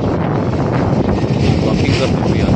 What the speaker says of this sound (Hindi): बहुत अच्छी अच्छी हवा चल रही है